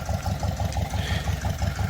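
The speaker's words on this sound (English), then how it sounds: "the tractor's running in the background" A 1970s farm tractor engine runs steadily close by on a farm field, a low rhythmic chugging idle with regular pulses throughout and no voices.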